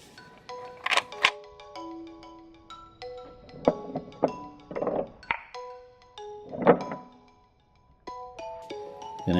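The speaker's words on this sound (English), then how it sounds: "if you push on that trigger with your thumb, then the bombs will drop out the bottom" Small plastic toy bombs drop from a LEGO Star Wars Resistance Bomber set 75188, giving several close, sharp plastic clicks and clatters at irregular intervals, with faint ringing tones between them.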